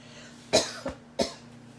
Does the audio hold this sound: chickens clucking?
no